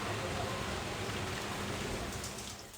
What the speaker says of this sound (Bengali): বাড়িতে এখন বৃষ্টি হচ্ছে